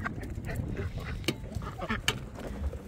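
Ducks and drakes on a New Zealand homestead in spring, several nearby birds giving irregular quacks and honks over a busy background with faint voices.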